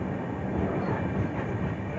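The Saurashtra Mail train pulls out of a station with a continuous, heavy rumble of rolling wheels and carriages, loud and close, and no voices stand out.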